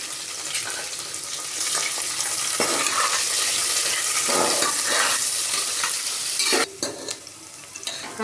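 Onion and whole spices frying in a pan for Indrayani masala rice, a loud close sizzle with repeated scraping stirs, ending in a brief pause before the frying resumes.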